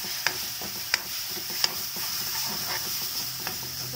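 Bathua greens frying with salt and red chili powder in a pan give a steady soft sizzle, punctuated by several sharp spoon scrapes and taps as they are stirred, close and unaccompanied by speech.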